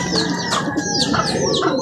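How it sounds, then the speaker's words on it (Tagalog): Racing pigeons coo and call as they come back into the loft after a 74.96 km race in Leyte. The sound is a steady, close run of soft bird calls over a constant background hiss. "tatlo na po kalapatids yung pumasok po nating ibon"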